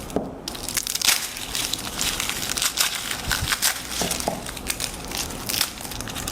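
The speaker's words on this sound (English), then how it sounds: "using the side of my knife blade, I'm going to smash the garlic and release the skin" Garlic cloves smashed under the flat side of a knife blade on a cutting board while preparing kimchi: a run of close, crunchy crushing and crackling sounds with no voice.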